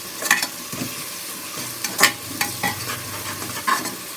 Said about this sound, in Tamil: இப்போ இந்த வெங்காயம் கொஞ்சம் சீக்கிரமாக வதங்க உப்பு சேர்த்துக்கலாம்.